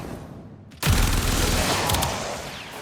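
After a brief quiet lead-in, Gauss in the video game Warframe opens fire with a rapid automatic weapon, a loud sustained stream of closely spaced shots lasting about two seconds.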